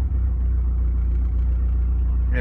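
A 2G DSM car engine holds a raised idle around 1,000 rpm, a loud, steady low rumble that runs unbroken from start to finish, with a brief faint rustle near the end.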